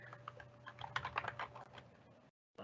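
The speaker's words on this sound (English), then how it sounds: "Let me type that in" A burst of quick keystrokes on a computer keyboard as a web address is typed in, close and fairly quiet, with a steady low hum underneath before it stops abruptly.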